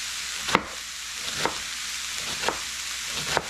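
A knife slices thin through cabbage for coleslaw, giving four sharp crisp cuts about a second apart over a steady low hiss, close and fairly quiet.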